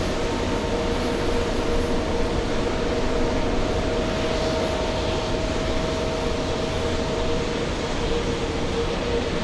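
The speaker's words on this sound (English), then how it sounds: "A quarter of Virgin Atlantic's A350 1000 fleet is in front of the camera right now, right here at JFK" Continuous loud roar of jet aircraft at JFK airport, where Virgin Atlantic A350-1000 airliners are parked, a steady broadband rumble with no distinct events or breaks.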